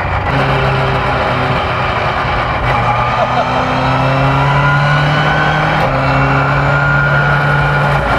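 A near-300-horsepower naturally aspirated Vauxhall red top engine in a rear-wheel-drive classic Vauxhall resto-mod drones loudly and steadily from inside the car, its pitch rising and settling as it pulls through the gears.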